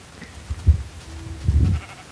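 Sheep in Minecraft bleating in two short calls, the second longer and fuller, fairly close with no talk over them.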